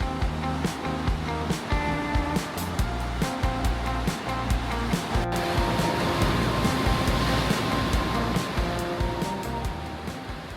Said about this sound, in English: I think that's the sea cave. You can like hear the ocean in it.